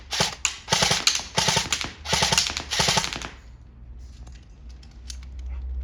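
Airsoft replica rifle firing on full auto: five rapid bursts of sharp mechanical shots in the first three seconds, fairly loud and close, then quiet room hum.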